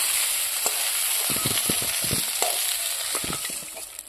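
Potato and cauliflower fry in a pan for a village-style meal, giving a steady close sizzle with scattered crackles and a few stirring scrapes.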